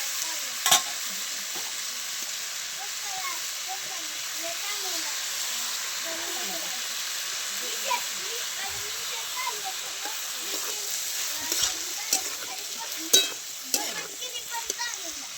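Tomatoes sizzle and fry in a pan while being stirred, a steady broadband hiss with scattered scraping and clicking from the spoon, moderately loud and close, with no one talking.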